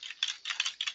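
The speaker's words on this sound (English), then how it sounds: "So if I were here typing away" Typing on a computer keyboard at a desk, heard as close, rapid clusters of crisp key clicks in three quick bursts separated by brief pauses.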